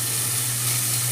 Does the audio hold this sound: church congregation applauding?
no